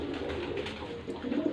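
Pigeons coo continuously in a breeder's loft in Faisalabad, a dense, low rolling murmur from several birds close by, with no speech.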